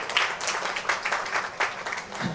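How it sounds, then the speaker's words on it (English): Audience applause at a Pinkathon women's fitness event announcement, a moderate patter of many hands clapping steadily for a couple of seconds with a few sharper bursts, heard from a short distance with no voices over it. "I want you to give them a big round of applause."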